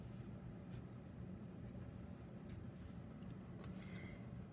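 A pen scratches across paper while a matrix problem is written out: quiet, irregular strokes and taps against a soft background hum.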